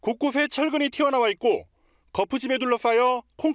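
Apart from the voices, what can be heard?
No everyday noise stands out behind the speech.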